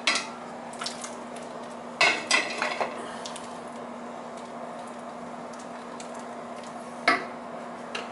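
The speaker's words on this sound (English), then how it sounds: "it's been cooking for a while and I've been stirring it" A spoon stirs zucchini and summer squash cooking in a pot, giving a few sparse metallic clinks and scrapes against the pot over a quiet, steady background hum.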